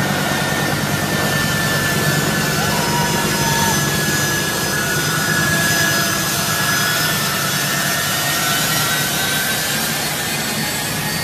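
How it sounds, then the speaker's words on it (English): An airplane taking off gives a loud, continuous broadband roar that holds steady throughout, with no voices. "Plane takes off."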